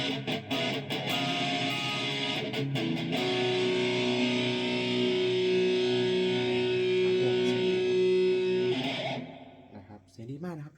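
A Sterling AX30D electric guitar with DiMarzio pickups, through high-gain distortion, rings out loud sustained chords, with chugging strums at the start, then fades into a few scratchy picked notes.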